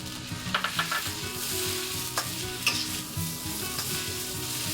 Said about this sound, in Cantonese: 放啲雞粒入去炒，炒香佢，鹹魚放埋落去。